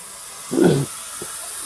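A Russell's viper gives a single short, breathy hiss that bursts out once, followed by a faint second puff, against a quiet background hum.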